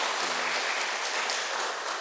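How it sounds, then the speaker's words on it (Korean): A church congregation at a Sunday worship service claps steadily and warmly, a dense, even wash of applause filling the room without pause. "여러분들 큰 박수로 한번 격려했으면 좋겠습니다"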